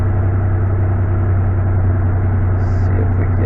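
Engine of a 1996 Toyota T100 pickup with a 3.4-litre V6, automatic, 230,000 miles and a check engine light on, idling with a steady, loud low rumble throughout.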